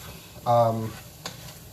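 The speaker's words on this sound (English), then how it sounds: "You're sauteing and kind of like almost deep frying at the same time." A brief burst of hot sizzling from small vegetables hitting fat in a pan, loud for about half a second, then fading to a quiet crackle.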